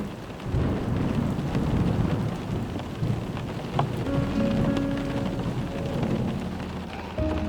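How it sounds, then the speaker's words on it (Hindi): Steady drizzling rain falls close by in Haridwar, a dense wash of patter with a low rumble underneath and no voices. "हरिद्वार में एंटर होते ही रिमझिम बारिश ने किया हमारा स्वागत।"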